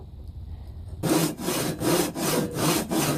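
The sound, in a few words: sawing wood for bridle joint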